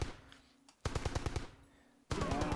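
King Kong Tommy Gun in Entropia Universe fires two rapid bursts, each a quick rattling string of loud shots separated by a short pause, with no talk.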